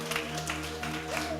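Church congregation applauding during a worship service, a moderate steady patter of claps with a sustained musical tone underneath.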